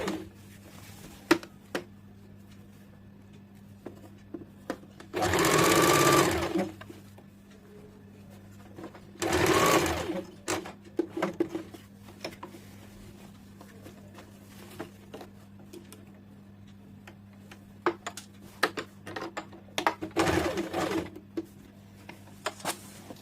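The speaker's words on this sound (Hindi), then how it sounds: "ये जो 1 इंच छोड़ा हुआ वाला हिस्सा है, इसे हम लोग इस प्रकार से मोड़ के सिलाई डाल देंगे।" Sewing machine stitching a folded one-inch petticoat hem, two short whirring bursts of stitching separated by quiet stretches filled with light handling clicks and fabric rustle.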